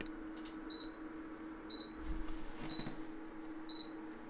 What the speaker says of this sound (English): It was my humidifier just filling up.